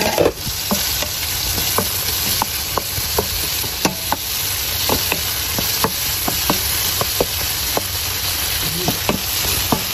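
Pakbet vegetables with tomato sizzle in a pan while being stirred, the steady frying hiss broken by repeated sharp clicks of a utensil against the pan at an irregular rhythm, close and without talk.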